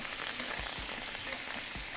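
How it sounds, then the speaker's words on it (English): Fresh thyme frying in oil for an oxtail broth gives a steady, close sizzle that runs through the whole stretch, with a few soft low knocks underneath. "when the thyme is frying in the oil and you feel that, and you can smell it and feel it and hear it"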